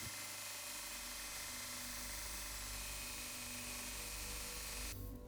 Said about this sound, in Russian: При помощи гриндера убираю литник